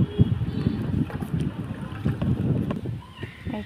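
A boat moves through floodwater near a house, giving a low, uneven rumble with sloshing and wind buffeting across a few seconds.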